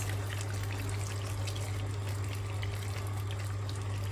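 Water pours steadily into a cooking pot of pork for dinuguan, a continuous close rushing splash with no pauses or talk.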